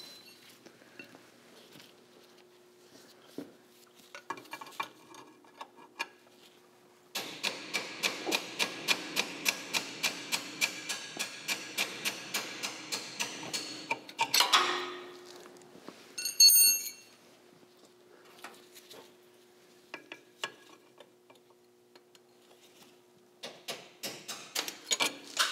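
Steady rapid series of sharp metallic taps from a punch and hammer driving the outer roll pin out of a Subaru shifter, a dense rhythmic run with a ringing clink near the end, then scattered lighter taps.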